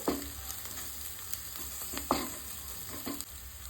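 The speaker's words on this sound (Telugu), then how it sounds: "ఇదంతా మంచి పచ్చివాసన అయ్యేంత వరకు ఫ్రై చేసుకోవాలి" Onion and ginger paste frying in a pan, a steady soft sizzle with a few light scrapes and clicks of stirring, alone with no talk.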